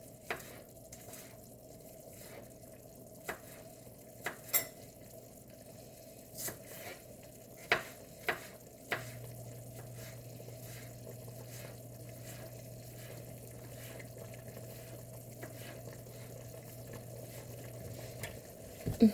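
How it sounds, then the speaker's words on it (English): Noodles cooking in a pot of gluten-free ramen soup, a steady low simmering and bubbling hiss with occasional clinks and taps, fairly quiet and without talk. "noodles cooking."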